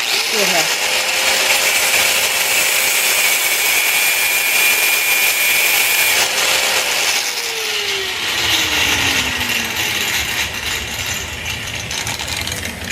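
A power tool cutting metal for a gauntlet finger, a continuous harsh grinding drone with a shifting whining pitch that slides downward partway through, close and loud throughout.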